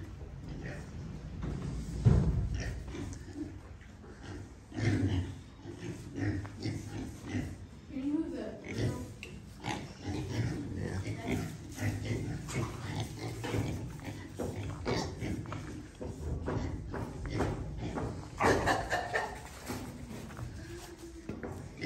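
Pigs grunt and oink inside a pig barn on a small hobby farm, a steady scatter of close snorts and shuffling with a person talking over them throughout.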